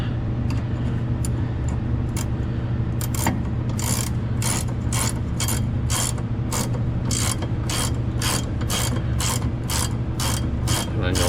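Socket ratchet tightening a sway link bolt on a 2004–2013 Mazda 3 rear suspension, rapid bursts of close metallic clicking in repeated strokes, growing more regular, over a low steady background hum.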